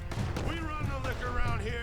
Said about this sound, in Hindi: ऊपर से भी गोलियां चल रही हैं हमारे ऊपर।